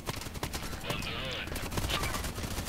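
Orsis sniper rifle fires in the Contract Wars online shooter, loud sharp reports over a busy bed of game noise and other distant gunfire, with a whistling effect midway.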